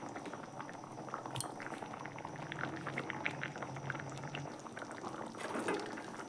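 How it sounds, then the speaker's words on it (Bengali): Ghugni curry simmering in a pot at home, a soft continuous bubbling and gentle popping that stays quiet and close throughout with no voices. "এরপর আমি ভালো করে ফুটিয়ে নিচ্ছি"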